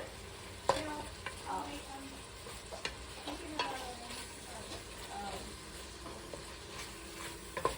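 Sausage browning in a pan over high heat, a faint steady sizzle with occasional scrapes and stirs, close by and fairly quiet.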